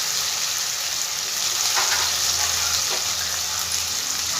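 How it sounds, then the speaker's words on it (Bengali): A ground spice paste fries in a pan over a low gas flame, giving a steady close sizzle with a couple of soft stirring scrapes and no talk. "এবার বেটে রাখা মশলাটা সব আমি দিয়ে দেবো এর মধ্যে।"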